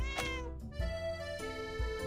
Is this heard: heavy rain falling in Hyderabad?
no